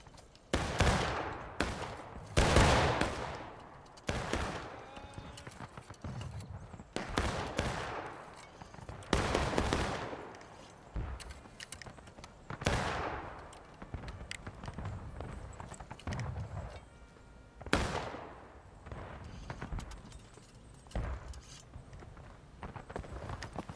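Musket volley fire in the War of Rights battle game, Union defense at Harper's Ferry: repeated loud, ragged bursts of many rifle shots echoing over nearly half a minute, with scattered single cracks between volleys.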